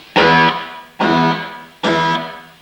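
A sustained distorted guitar note played once, with stereo delay repeating it twice to build three-part harmony, each repeat ringing then decaying before the next, evenly spaced, loud and close.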